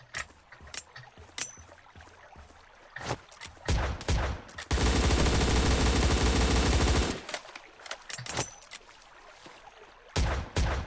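Vector submachine gun fire in the online shooter surviv.io: scattered sharp single shots and short bursts, then a dense unbroken volley lasting over two seconds, followed by more spaced cracks and a final burst.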